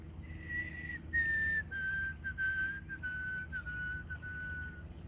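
A person whistles a human imitation of a white-throated sparrow call, a thin, faint whistle of several sustained notes that steps slightly downward and trails off, heard alone over low background rumble.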